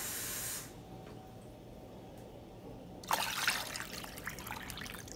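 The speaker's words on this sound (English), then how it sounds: "So I'm going to add some more water to it" Water pours in a steady hissing stream into a pot holding a ham, starting partway through after a quieter stretch, close and continuous.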